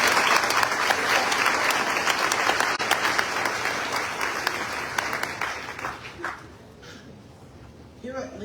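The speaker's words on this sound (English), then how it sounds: "let's give them a round of applause" Sustained applause from a crowd at a Lincoln Tech campus graduation ceremony in Paramus, New Jersey, steady and dense before thinning out toward the end.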